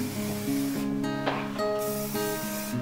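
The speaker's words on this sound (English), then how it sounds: "spray the heat protectant again" Heat protectant sprayed onto a clipped section of hair while making loose curls, a short airy hiss standing out over steady background music.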